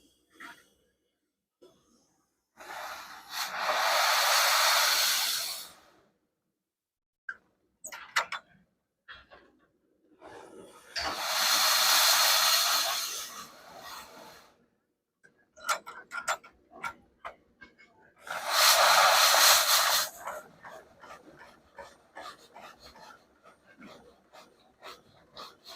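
A half-scale steam engine releases three slow, breathy bursts of steam at regular intervals, separated by quieter stretches of light clicks and mechanical ticks as it slowly rolls over.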